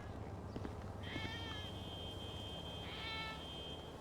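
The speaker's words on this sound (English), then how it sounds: "I hear a cat." Two drawn-out cat meows in a video game, one early and one near the end, sounding clear over a steady low background hum.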